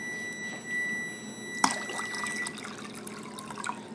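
Water is poured into a microwave coffee brewer, five cups' worth: a soft, continuous trickle and splash close by, with a brief sharper clunk partway through and no talking.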